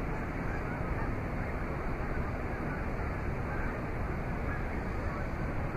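Large white birds gathered in a flock on the far side of the water, honking continuously in a dense, distant chorus that holds steady throughout, with no talking.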